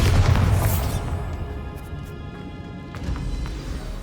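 A Bombarda blasting spell goes off in Hogwarts Legacy, a loud booming explosion at the start that settles into a rumbling decay with scattered debris sounds.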